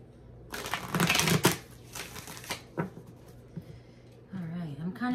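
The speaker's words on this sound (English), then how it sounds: "One more shuffle for Virgo." Tarot cards riffle-shuffled in a couple of quick bursts, followed by softer tapping and squaring of the deck, with a voice speaking briefly near the end.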